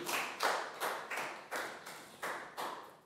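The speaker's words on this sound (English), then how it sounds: "big round of applause for Chew" Classroom applause for a student in a Year 4 health lesson, a small group giving about eight or nine evenly spaced, sharp claps in a steady rhythm, close and without talk.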